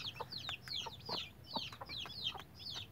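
A broody hen clucks softly among her chicks while their thin, high peeps repeat steadily and overlap, close by on a small farm.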